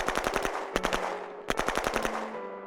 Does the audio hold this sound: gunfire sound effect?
yes